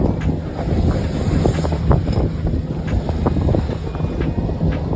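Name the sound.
wind and waves against a sailboat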